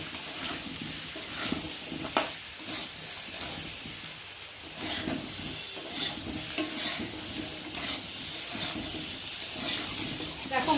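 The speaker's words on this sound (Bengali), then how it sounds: "দিয়ে মশলার সাথে আলুটা ভালো করে কষিয়ে নেব" Potatoes sautéing with cumin powder, ginger paste and chopped tomato in a pan, a soft continuous sizzle with scraping stirring strokes and occasional clinks, moderately close and fairly quiet.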